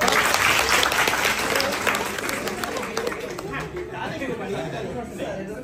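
Students clap together loudly at a school book distribution festival in Nagarpur, Tangail. The dense applause starts strong with crowd chatter mixed in, then gradually thins and softens.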